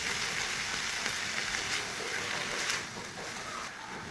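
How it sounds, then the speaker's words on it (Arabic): Chicken pieces with a small chopped onion sizzle and fry together in a pan, a dense steady crackling hiss that holds constant, dipping slightly in loudness toward the end. "وضفت هنايا الدجاج اللي كنت حطيته وخليتهم يتغلوا مع بعضهم"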